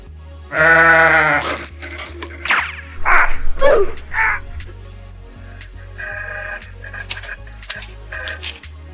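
A loud, close sheep bleat sound effect rings out once near the start, followed by a few short vocal bursts and quieter talk over a low background hum.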